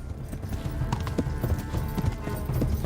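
Horse hooves clip-clopping at a steady gallop in the medieval game Kingdom Come: Deliverance, loud and close, a continuous rhythmic pounding with a brief whinny-like touch and no talk over it.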